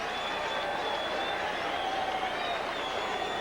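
Ballpark crowd applauding at Candlestick Park for Atlee Hamaker of the Giants against the Braves, a steady broad wash of distant clapping and crowd murmur throughout.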